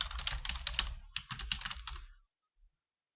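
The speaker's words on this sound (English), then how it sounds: "And optionally, we can type some text." Fingers type on a computer keyboard in two quick bursts of close, crisp clicking keystrokes, a brief pause between them, with no talk.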